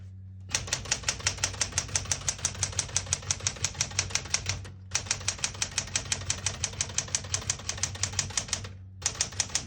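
Typing on a 1973 Smith-Corona Classic 12 vintage portable typewriter: rapid, even keystroke clacks, close and crisp, in two long runs broken by short pauses, with no talking.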